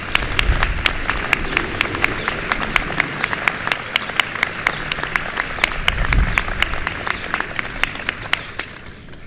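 An audience applauds challenge winners at a Joining Forces event for military families, with steady, dense clapping from a large crowd that holds throughout and softens slightly at the end.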